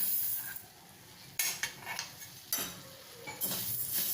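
Coriander seeds dry-roasting in a pan with a little oil, stirred at intervals: a quiet hiss of seeds under several sharp scrapes and clinks of a spoon against the pan, close and soft, with no talking.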